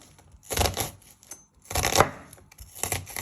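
A knife slices through an onion on a cutting board in a home kitchen while chicken tagine is being prepared, three separate bursts of close, crisp chopping strokes with short pauses between them.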